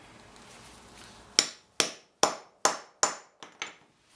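A sharpened length of pipe is struck repeatedly to punch a hole through carpet: five sharp, evenly spaced impacts, then two quicker lighter knocks, close and loud after a quiet start.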